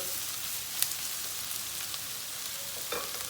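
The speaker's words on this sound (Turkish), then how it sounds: "Biberleri de bir karıştırıyoruz." Peppers and onions sizzle steadily in a pan, a constant close hiss broken by a few light scrapes and clinks as they are stirred.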